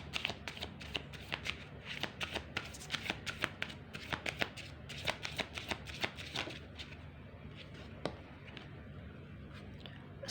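Tarot cards being shuffled by hand in a quiet room, a steady run of crisp riffling and flicking bursts that comes close and clear, with no talking over it.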